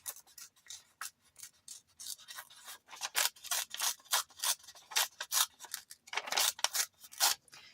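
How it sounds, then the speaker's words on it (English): Paper being torn by hand for a vintage craft tag, a run of close, crisp rasping rips in short uneven bursts that grow louder and more frequent toward the end, with no talking. "And then I'm going to go ahead and start tearing"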